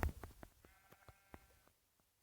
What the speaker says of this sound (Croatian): Našao sam jednu ovcu.